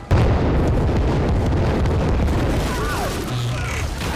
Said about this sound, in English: Oh, that ship is serious. Oh, the cannon.